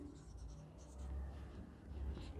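Pen writing out a geometry solution during a maths lesson, a soft, continuous scratching of strokes with no talking over it.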